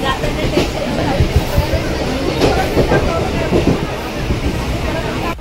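A crowded Mumbai commuter train heading to CST rumbles and rattles loudly and continuously, with crowded voices murmuring inside the carriage.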